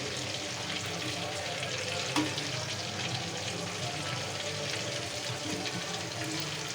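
Collar fish frying in a pan over a low simmer, giving a steady, even sizzle of hot oil throughout with a soft clink near the middle and a faint voice in the background.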